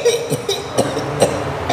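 A person coughs several times in short, uneven bursts close by, with a hoarse throaty quality and brief pauses between coughs.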